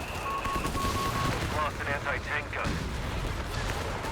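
Anti-tank gun fire from Company of Heroes 3 on the Gazala map, a steady barrage of heavy battle blasts layered with chattering weapons and whistling effects, loud and continuous throughout.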